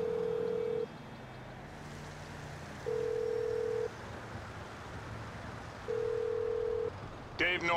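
In-game phone ringing in Grand Theft Auto V, with three evenly spaced long electronic ring tones about three seconds apart over a faint background hiss. A short burst of other sound comes at the very end.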